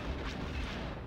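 Blaster fire from a starfighter in the Star Wars Rogue Squadron video game, a dense, steady rush of rumbling shots and low booms running continuously through a brief stretch at moderate loudness.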